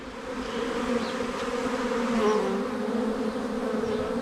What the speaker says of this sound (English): That's a swarm of bees in the tree.